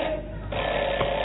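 A telephone rings in a 1988 Liaoning TV Spring Festival Gala comedy sketch, producing a steady electronic tone that holds for just over a second against studio room noise.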